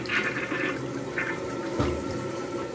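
A Mansfield Maverick dual flush toilet flushes with a steady rush of water, loud and close, running throughout with a brief surge near the end; no one speaks.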